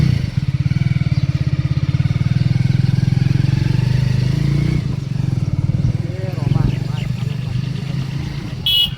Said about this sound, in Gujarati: દીપો ભાઈ બાઇક ચલાવે રહ્યા છે